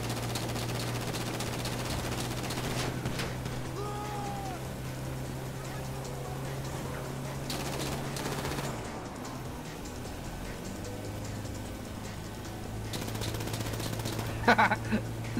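Gunfire in GTA 5 Online during a bikers heist setup, with shooting at vehicle tires amid steady engine drone, rapid bursts and single shots, a sharp cluster of close shots near the end, with voices talking throughout.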